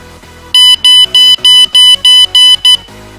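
A buzzer on an MQ-2 smoke and gas sensor alarm, triggered by incense smoke, gives eight close, loud, regular electronic beeps in quick succession, with quiet background noise before and after.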